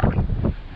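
Strong wind thumps and roars across the microphone in brief, loud gusts lasting under a second.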